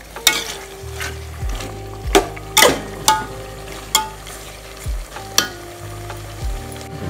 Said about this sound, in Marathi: आता या सर्व मिश्रणाला व्यवस्थित तेलामध्ये परतून घेत आहोत